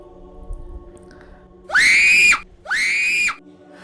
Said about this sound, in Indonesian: Ibu-ibu yang menyaksikan tontonan itu berteriak,